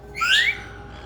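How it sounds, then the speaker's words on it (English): A pet bird in an indoor bird room gives a single bright, rising whistle lasting about a third of a second, fairly close and clear over a low steady room hum. "That's Aussie whistling."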